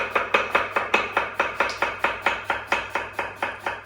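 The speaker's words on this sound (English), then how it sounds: "when you're cutting those potatoes, get them as thin as you can." A knife chops potatoes thinly on a board for a potato gratin, about seventeen sharp, evenly spaced cuts in a brisk steady rhythm, close and clear with a faint background hum and no talking.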